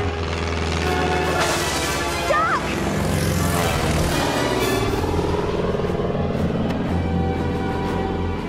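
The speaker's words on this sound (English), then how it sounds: "It's an aeroplane, and I think it's in trouble." A continuous engine drone of an aeroplane fills the air, loud and steady, with a rumbling low end and no voices.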